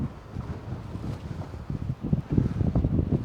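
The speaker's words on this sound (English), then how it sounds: "It's very windy over there today." Strong gusting wind buffets the microphone at the seaside by Reculver Towers, a choppy sea behind it, with uneven low rumbling bursts that grow stronger toward the end.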